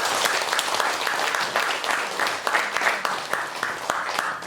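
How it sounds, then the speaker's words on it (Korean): An audience at a Buddhist dharma assembly claps in sustained applause, a dense steady patter of many hands lasting several seconds, loud and close. "이럴 때 박수 한번 쳐야 되는 거야."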